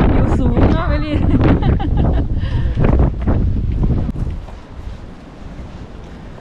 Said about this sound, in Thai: ไปนี่ลมมากลมแรงเพราะมันอยู่สูงเนาะ